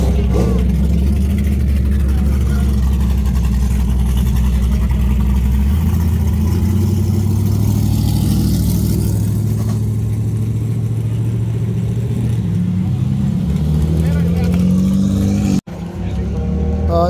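A modified Camaro with ProCharger and cam on E85 and a Hellcat with upper pulley and headers on E85 run a 60 mph roll race, loud sustained engine roar with rising pitch as they accelerate, then a sudden cutoff.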